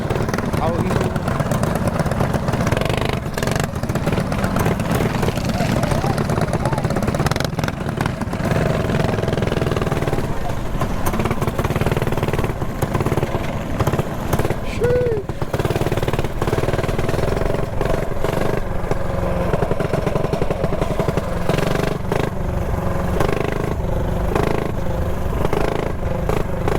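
Several mini bikes ride together through a riverbed in Long Beach, their small engines buzzing and revving continuously up close, with clattering gravel and people talking over the steady drone.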